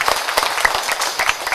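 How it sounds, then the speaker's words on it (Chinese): Brief, dense applause from an audience welcoming the Guangsha community at an achievement presentation gathering in Hengchun, steady and close with no one talking. "我们也鼓掌表示欢迎"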